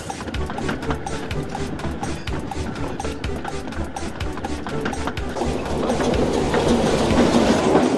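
Steam engine train from the Trainz video game running on rails, a steady dense rumble with rapid clickety-clack beats that swells louder toward the end, no voices.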